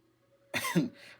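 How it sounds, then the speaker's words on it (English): A single close, sharp cough that is not from illness, a short harsh burst followed by a brief catch of breath in a quiet room. "like that cough, but it's not a sick cough"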